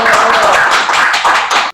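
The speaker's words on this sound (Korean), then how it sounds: "뜨거운 박수로" Audience applause welcoming a lecturer to a talk on the 1946 Daegu October Uprising, a dense burst of hand clapping in an indoor hall that fades out quickly.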